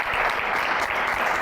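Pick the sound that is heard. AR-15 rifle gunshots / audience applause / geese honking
audience applause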